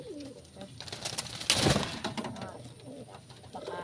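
Pet pigeons kept at home coo close by in soft, rolling calls, with a brief flutter and a faint voice in the background.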